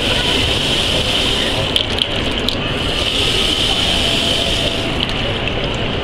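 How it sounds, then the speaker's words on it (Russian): Water running steadily from an Oras Sense kitchen faucet, a continuous near hiss and splash at constant level, with someone talking over it. "если я сейчас поверну рукоятку, не прикасаясь к кнопке, то вода тоже пойдет"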